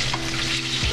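Onions frying in a pan alongside blackened flounder, giving a loud, dense, steady sizzle close by.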